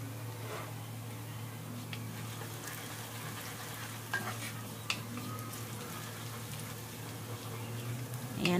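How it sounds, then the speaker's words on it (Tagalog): Ingredients sauté and brown in a pan for pancit guisado, a soft, even frying hiss over a low hum, with a couple of faint taps from stirring. "igisa muna natin siya. Hayaan nating mag-brown siya konti guys."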